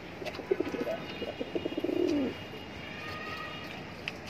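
Pigeon cooing from a high-flyer pigeon in a loft in Mumbra, Thane, a run of soft throaty coos over about two seconds with faint background chirps, nearby and fairly quiet.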